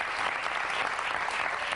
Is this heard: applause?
yes